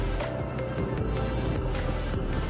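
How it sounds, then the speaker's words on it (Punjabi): A motorcycle engine labors in second gear on a mountain route in Himachal Pradesh, with a rough, grinding growl, revving hard and unevenly at close range without letting up. "ਦੂਜੇ ਗੇਅਰ ਤੇ ਦੇਖੋ ਮੋਟਰਸਾਈਕਲ ਦੀ ਆਵਾਜ਼"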